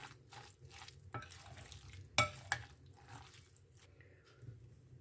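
A sweet-and-spicy beetroot salad is stirred in a container, making soft wet scraping and squelching sounds with a couple of sharper clinks. Nearby and fairly quiet, with no talking.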